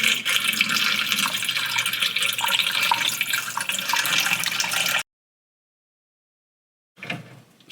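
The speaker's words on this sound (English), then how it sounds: "I'm now going to pour out the developer. And again, I'm using some room temperature tap water." Film developer and room-temperature tap water poured out of a developing tank in a steady five-second stream, then a pause and a brief second splash, close and alone.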